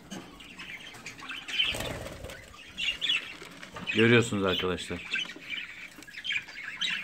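Budgerigars flap their wings in a sudden burst and give harsh, scratchy squawks and chirps nearby, while a person speaks briefly.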